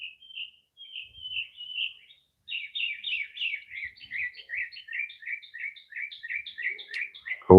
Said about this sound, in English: And you hear the birds too?